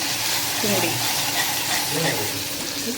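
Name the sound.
garlic sizzling in oil and butter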